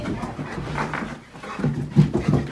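American Foxhound dog panting in quick, close breathy bursts, with a few soft whimpering tones near the end.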